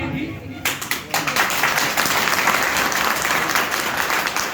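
Seminar audience bursts into applause in an Akhnoor hall, starting abruptly after a brief pause and building into loud, dense, sustained clapping.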